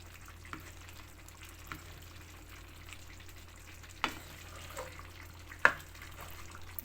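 Kaldereta sauce with butter and liver spread simmers faintly in a pan while a spoon stirs it, giving a soft bubbling hiss broken by a few sharp scraping clacks.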